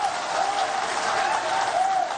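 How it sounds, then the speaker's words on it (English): Sustained applause at a political rally following a presidential election, dense steady clapping from a large crowd filling the whole stretch with an even, unbroken wash of sound and a faint tonal whine beneath. "Honorable Johnson Asiedu Nketia, with a huge round of applause, please."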